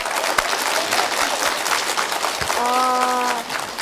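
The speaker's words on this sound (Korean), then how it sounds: "힘찬 박수로 좀 환영해 주십시오" Studio audience applause at a Korean KBS television music talk show, dense sustained clapping from a large crowd welcoming a guest, with a brief tonal musical sting near the end.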